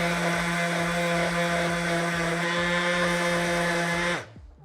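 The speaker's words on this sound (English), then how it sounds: "So just quickly, fluid sander." A handheld sander runs with a steady high whine against the steel body panel of a Fiat 126 under restoration, loud and close, then cuts out abruptly near the end.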